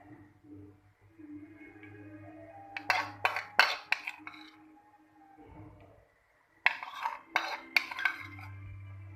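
A spoon stirs milk in a pot or bowl while setting homemade yogurt, giving two quiet bursts of rapid clinking and scraping against the vessel with pauses between, close and faint.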